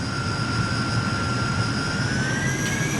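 De Havilland DH.100 Vampire jet in a flight simulator game running at maximum speed: a loud, steady jet whine with sustained high tones over broad rumbling roar, continuous and unchanging with no voices.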